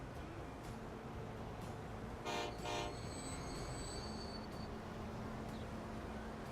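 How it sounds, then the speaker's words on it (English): A train pulls into a station in the Transport Fever railway game, with a short loud rumbling burst and faint high whistle-like tones over a steady background hum, no voices. "we got a train coming in now"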